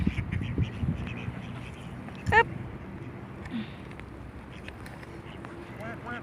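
Wild ducks abroad give a few scattered quacks, one sharp call near the middle and faint ones toward the end, over outdoor rumble and light rain with someone talking.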